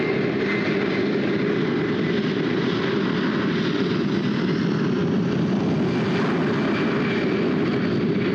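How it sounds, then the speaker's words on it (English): Large military aircraft engines roar at an air show, a loud, continuous, heavy drone held at full strength throughout with no break. "The sound of these engines and the aircraft right now, you feel the heaviness of this huge aircraft."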